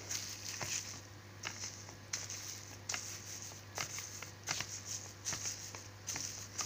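Soft, irregular squishing and patting from a thin layer of bloodworms being smoothed out inside a plastic bag, with close, quiet handling taps over a faint steady hum.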